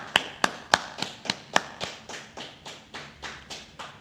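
Slow, evenly spaced claps from a small group in a class setting, about a dozen sharp strikes over four seconds, the first several crisp and near, later ones softer and more diffuse.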